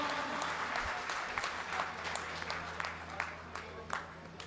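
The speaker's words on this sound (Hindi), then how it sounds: "भाई जितेंद्र देसवाल जी, जोरदार तालियों की गड़गड़ाहट से भाई साहब से आपसे रूबरू हो" Crowd applause fills a political rally for a former Safidon MLA, dense and sustained clapping from many people with sharper individual claps standing out, steady throughout.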